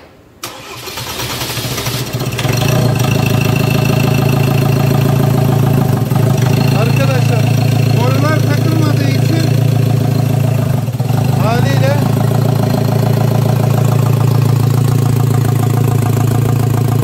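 A Ford Transit van's diesel engine cranks briefly, catches and settles into a steady, loud idle that runs on, with a few faint turbo whistling or squealing sounds over the rumble as the turbo engages right at startup.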